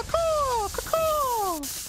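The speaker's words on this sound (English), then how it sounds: "It's meant to be an eagle" Warzone game eagle screech effect: two loud, shrill, whistling cries, each sliding downward in pitch, heard close and alone.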